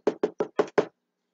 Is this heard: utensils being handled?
no